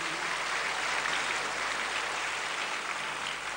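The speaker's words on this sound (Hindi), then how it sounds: "तो एक बार और जोरदार तालियां बजा दो" An audience at a bhajan evening at Patanjali Yogpeeth bursts into loud, dense applause, a steady wash of many hands clapping that holds evenly throughout with no talk over it.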